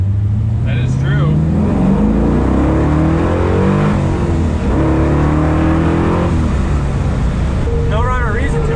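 A Chevrolet Nova's engine roars continuously at full throttle, loud and close as it revs hard and climbs through gears from inside the car.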